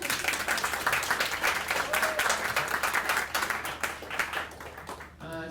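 Audience applause at the Bookfest 2016 book festival in East Hampton, a dense, sustained patter of many hands clapping at moderate distance. It carries on evenly for several seconds and then tapers off near the end.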